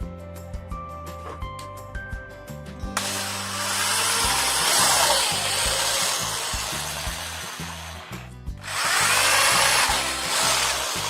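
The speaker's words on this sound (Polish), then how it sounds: "w wyznaczonych miejscach wiercimy otwory wiertłem numer 8" A power drill with an 8 mm bit whirs loudly and steadily through a wooden board, starting after a few seconds of clunking, pausing briefly, then boring again.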